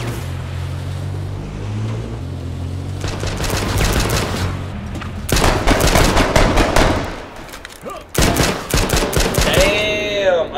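Rapid bursts of automatic gunfire in a video game crackle in dense volleys over a low rumble, with short pauses between bursts and a whooshing effect at the end.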